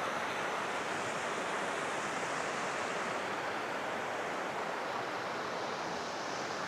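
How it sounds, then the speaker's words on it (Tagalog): River water rushing steadily somewhere below a high vantage point near Batulao, Nasugbu, Batangas, a continuous broadband wash of flowing water mixed with some wind, with no talk. "Maganda yung agos ng tubig sa baba."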